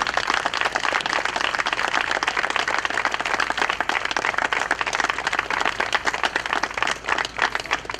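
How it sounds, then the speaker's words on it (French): Audience applause at a Tour de l'Abitibi cycling ceremony in Sainte-Thérèse: dense, steady clapping from a crowd that carries on loudly and evenly for the whole stretch, with a faint low hum beneath it. "Donc on peut l'applaudir."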